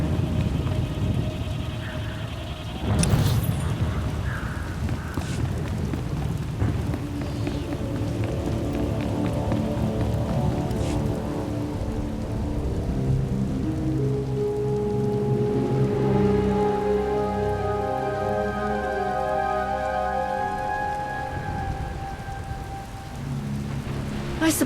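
Steady heavy rain with a low thunder rumble pours through a stormy scene in Star Wars: The Old Republic, a constant hiss lasting throughout, joined midway by a tonal musical score swelling underneath.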